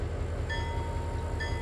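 A train reversing in the railway simulator Trainz 2022 rumbles steadily with low engine drone, and two brief high tonal squeals cut in partway through, all fairly quiet with no talk.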